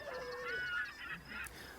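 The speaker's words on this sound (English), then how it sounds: "called a seagull bobbing on the waves" A seagull calls over the waves in a few short, harsh squawks at moderate distance, heard alone without talk.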